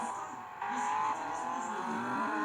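Tofaş Şahin car engine in a video game, a steady revving drone that steps up in pitch as it accelerates, with faint background talk.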